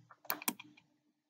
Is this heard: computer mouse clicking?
yes